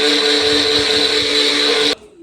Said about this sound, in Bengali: মাসি একটা মশলা পেস্ট করছে